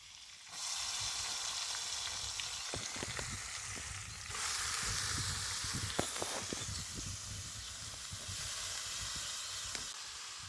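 Ridge gourd tossed into hot oil tempered with asafoetida and crushed garlic sets off a loud, steady sizzle and hiss, with a few stirring knocks, close up and without talk.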